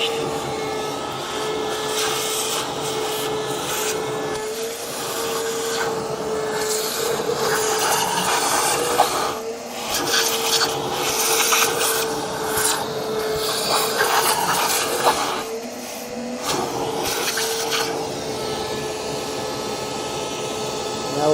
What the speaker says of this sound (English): So I'll get a small vacuum cleaner and clean that up.